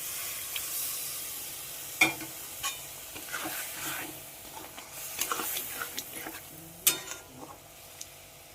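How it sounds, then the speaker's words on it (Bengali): Chicken stock goes into a hot pan of sizzling chicken bharta in a home kitchen, then gets stirred, with a quiet frying hiss broken by several sharp scrapes and clinks of a spoon against the pan. "এবার চিকেন স্টকটা দিয়ে দেবো।"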